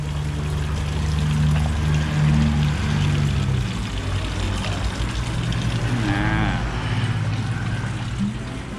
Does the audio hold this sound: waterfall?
yes